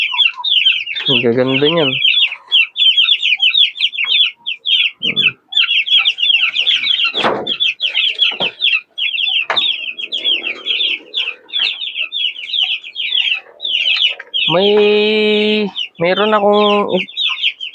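Backyard chickens, young birds that have grown large, cluck and chirp continuously up close, with a few louder squawking calls and someone speaking briefly among them.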